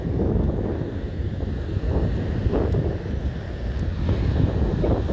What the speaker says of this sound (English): And quite windy, which is probably showing up on the video.